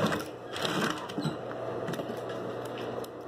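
A sewing machine stitching a small Easter egg coin purse keychain runs in a steady fast mechanical whir with rattling clicks, close and continuous.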